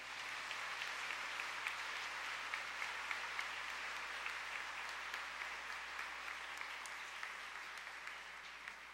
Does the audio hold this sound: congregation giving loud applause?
yes